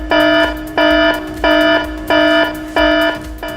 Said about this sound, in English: an alarm will be sounded.